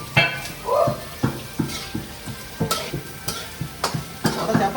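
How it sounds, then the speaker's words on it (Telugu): Onions frying in a pan, with a steady sizzle under repeated stirring scrapes and clinks about twice a second, close and moderately loud, with no talk. "ఇప్పుడే ఉల్లిపాయలు వేసాను."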